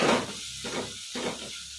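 Ingredients for melaga rasam frying in a pan, a broad steady sizzle and hiss with soft pulsing stirring swells, close and moderately loud, no talking.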